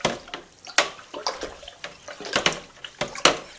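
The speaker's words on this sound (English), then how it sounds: "Give it a bit of a stir." Agave syrup wash being stirred for fermentation, with close, irregular sloshing and splashing of liquid in uneven pulses and no talk.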